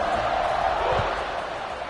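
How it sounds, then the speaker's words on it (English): A college football stadium crowd buzzes after a short touchdown run, making a loud, steady roar of many voices that stays constant throughout. "this crowd is buzzing after that last score"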